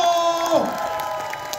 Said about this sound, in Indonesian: tepuk tangan paling meriah dong untuk the one and only Mas Hanung Bramantyo